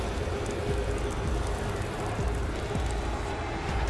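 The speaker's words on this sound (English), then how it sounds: "And another train is approaching the station." A train pulling into a station in a video game, a continuous low rumble and rattling hiss that holds at a steady level, with no speech on top.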